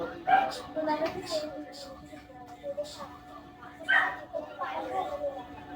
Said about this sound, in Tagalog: May binili na ako aso.